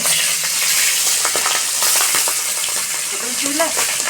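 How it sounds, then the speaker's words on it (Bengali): Hilsa fish frying in mustard oil over a village clay stove, a continuous sizzle with scraping stir strokes and small clinks, faint voices in the background. "ইলিশ মাছটাকে সরষের তেলে দিয়ে যাচ্ছে একটু এখানেই মানে নেড়ে চেড়েই তুলে নেওয়া হবে"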